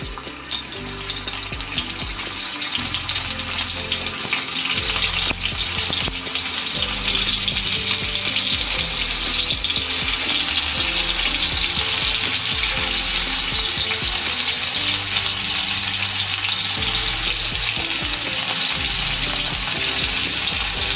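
Stuffed bitter gourd (karela) fries in a pan with a loud, continuous sizzle that stays even and close throughout, a dense crackling hiss with no voices.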